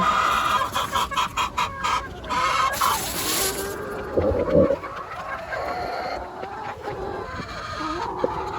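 Hens on a Philippine backyard farm cluck repeatedly while laying eggs, a steady chorus of nearby fowl calls with no talk.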